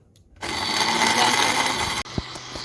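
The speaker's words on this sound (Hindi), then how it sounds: "ब्लेंडर को हम चलता रहने देंगे" Steady electric whirring of a kitchen blender whipping egg whites with sugar, running continuously, loud and close, then briefly cutting out before a second motor burst with small clinks.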